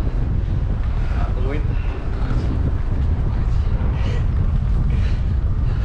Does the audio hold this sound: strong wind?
yes